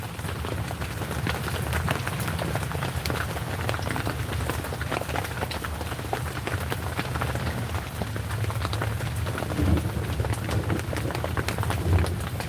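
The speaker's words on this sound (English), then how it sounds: "It's just what you hear is all the water falling off of the leaves right now." Rainwater drips and patters off the leaves in the woods after a drizzle, a steady, close, dense spatter of drops with no talk over it.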